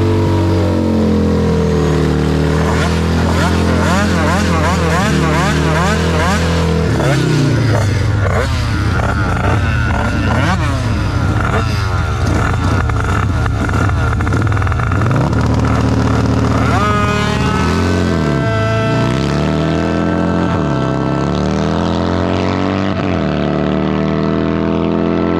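A 70cc twin-cylinder drag scooter tears through a drag run. It is loud and close, revving hard and climbing in pitch again and again through the gear shifts, without a break.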